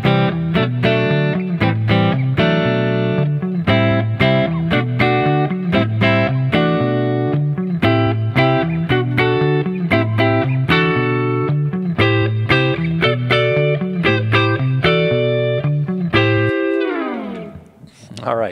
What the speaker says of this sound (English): let me play some minor 7 chord inversions over this.